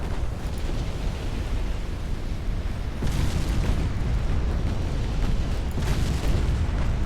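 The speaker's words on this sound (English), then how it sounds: "Torpedo hit on the Renown." A torpedo strikes a British battleship in the naval strategy game Ultimate Admiral Dreadnoughts, giving a loud, sustained rumbling explosion with a second surge of blast noise midway, heard alone without talk.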